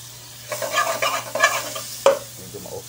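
Butter melts and sizzles in a deep pan while being stirred, a soft hiss with scraping stirring strokes, close and clear, no talking.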